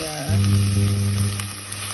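Onions frying in a pan for Jamaican steamed callaloo, a loud close sizzle that swells suddenly as food hits the oil and then holds steady, with no talking.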